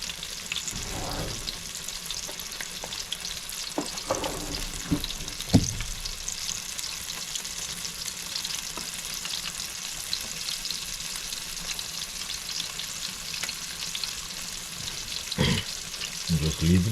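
Butterflied chicken drumsticks frying in a pan, a soft continuous sizzle with occasional clinks and brief handling noises, fairly quiet and close.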